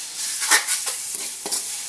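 Chicken breast toasts in a pan for a simple tuna pasta, a bright, continuous sizzle broken by a few scraping stir strokes, close and fairly loud.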